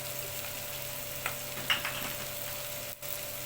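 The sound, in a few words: onion frying in a pan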